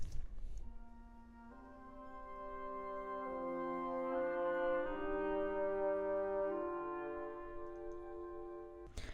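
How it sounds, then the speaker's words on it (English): Flute, oboe, clarinet and bassoon together play a soft orchestral wind passage in a cinematic indie anime-style track, sustained layered notes shifting in slow chords, gently swelling and then fading out. "The wind section altogether sounds like this."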